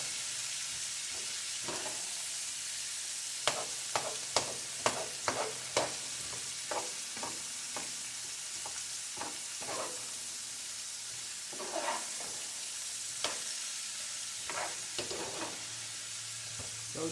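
Rice sizzling as it cooks down in a pan, a steady frying hiss throughout with scattered scraping clicks of stirring, close and moderately loud, without talk.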